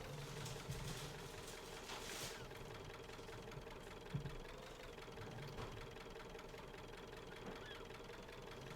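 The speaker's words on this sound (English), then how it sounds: "Tiny tractor." A small tractor engine in Farming Simulator 19 runs at a steady idle, a faint continuous knocking chug with a low rhythmic pulse and no talking over it.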